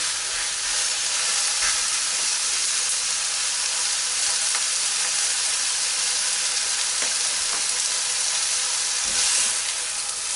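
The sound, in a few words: steak sizzling while frying in a pan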